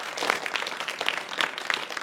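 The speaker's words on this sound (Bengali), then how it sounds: "একটা হাততালি" Studio audience at a children's science magic show clapping for two young performers, a brief burst of dense, bright applause with no talk over it.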